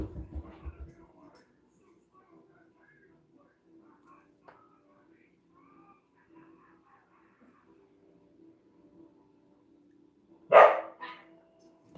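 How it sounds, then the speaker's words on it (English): A dog lets out one loud, sharp bark close by near the end, after a long stretch of quiet low murmuring and a brief soft rustle at the start. "There goes my other dog."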